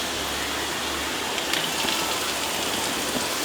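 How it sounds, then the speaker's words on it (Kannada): Dried red chillies sizzling in hot tempering oil with garlic and mustard seeds, a soft, continuous hiss like light rain, fairly even and without talk. "ಒಗ್ಗರಣೆಗೆ ಒಂದು 5 ಒಣಗಿದ ಮೆಣಸಿನ್ಕಾಯಿ"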